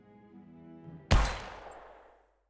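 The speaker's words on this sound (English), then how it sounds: "The gunshot was deafening." A single sudden gunshot cracks out loud and close, following a low hum, then decays in a long fading reverberant tail over about a second.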